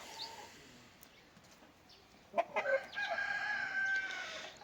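Andijan black chickens on a small farm cluck softly at first, then a loud rooster crow rises and holds in the middle, with more clucking behind it.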